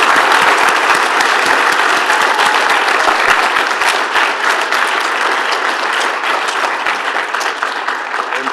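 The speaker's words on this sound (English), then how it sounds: "let's have a nice round of applause for Andre Tippett." Sustained, dense applause from an audience honoring Andre Tippett at a Pro Football Hall of Fame event, steady and loud with no pauses.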